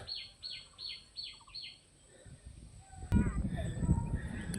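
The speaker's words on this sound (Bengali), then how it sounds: "পাখির আওয়াজ আপনারা শুনতে পাচ্ছেন, নানান রকম পাখির আওয়াজ" Several birds chirp and call in a riverside mangrove forest, a series of quick repeated high whistles early on, faint and distant, then fading under rustling and handling noise.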